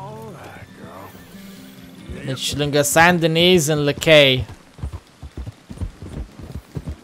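Horse in Red Dead Redemption 2 lets out a loud whinny with shrill rising and falling neighs, followed by a run of clip-clopping hoofbeats, with someone speaking briefly over it.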